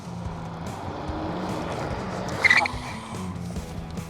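A NANROBOT N6 72V electric scooter brakes hard in a stopping test, a short sharp tire squeal cutting through steady road noise and a low motor hum.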